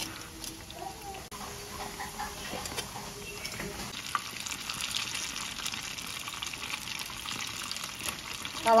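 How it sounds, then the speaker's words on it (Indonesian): Snack frying in oil over medium-to-low heat, a steady soft sizzle and crackle throughout, close and moderately quiet, with no talking. "Gorengnya pakai api sedang, cenderung kecil aja."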